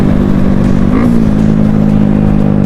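A Yamaha R15 V4 motorcycle fitted with a loud aftermarket exhaust revs up close. It gives a continuous raspy engine drone with a brief climb in pitch near the middle, loud and dominant throughout.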